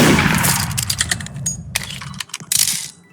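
Gunfire in the Roblox game Murder Mystery 2 crackles as a dense, rapid burst of sharp clicks and pops, loud and close, then tails off briefly before a final short flurry.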